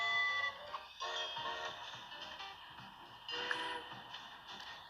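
Trains rumble through a windy level of Train Sim World, a dense mechanical drone layered with sustained horn- or whistle-like tones that swell and fade across several seconds, with no talking.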